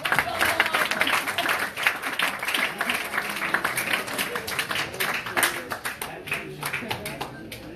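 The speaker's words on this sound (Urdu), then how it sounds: "میں چاہوں گی کہ آپ ان کے لیے بھرپور تالیاں بجائیں." Audience applause for the mayor of Islamabad at a pre-parliament gathering in Pakistan, a steady wash of many hands clapping that carries on loudly and evenly without a break.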